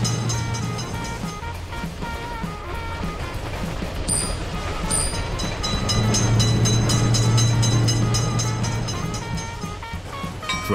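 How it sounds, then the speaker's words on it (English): At a railroad crossing, a passing train's steady roar of wheels and wagons fills the air, with a sustained low tone swelling in the second half and brief bell-like chimes near the start. "Train is coming. Gate to open or close the passage for cars."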